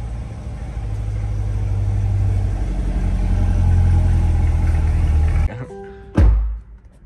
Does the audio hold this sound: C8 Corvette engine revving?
yes